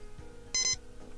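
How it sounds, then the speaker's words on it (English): A short double beep from an x-ray machine in the Surgery Squad game sounds once, clear and fairly close against a quiet hum. "Beep, beep."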